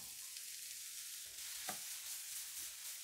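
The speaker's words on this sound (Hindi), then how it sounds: "अब हम इसी ऑयल में ये गाजर को थोड़ा सा सौते कर लेंगे।" Sliced carrots sauté in hot oil with a soft, steady sizzle, faint and even, broken by a few light stirring clinks.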